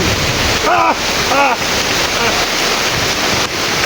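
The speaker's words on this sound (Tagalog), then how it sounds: "Ang hangin!" Loud, steady roar of strong wind buffeting the microphone, with two brief voiced cries breaking through early on.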